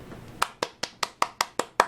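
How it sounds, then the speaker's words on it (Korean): Eight crisp, evenly spaced claps from one person ring out close and loud in a steady rhythm, with nothing else over them. "박수!"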